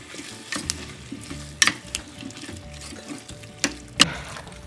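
Kerala-style puzhukku being mixed in a pan, with scraping stirs and soft sizzling, plus a few sharp clinks of a utensil against the pan. The sounds come up close and carry no talking.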